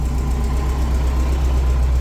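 A car engine fitted with IDF carburetors idles steadily, a close, continuous low rumble with an even pulse and no talking.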